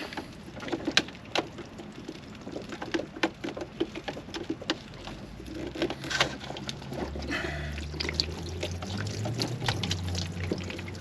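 Water pours and splashes out of a removed water filter housing in a coach, a close, uneven gurgling stream with small drips and patters.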